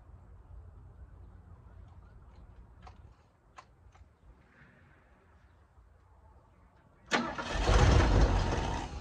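A 1972 Ford Ranchero with a suspected ignition problem cranks after a quiet stretch with a few faint clicks, then the starter and engine burst in loudly for the last couple of seconds, a harsh, rough churn.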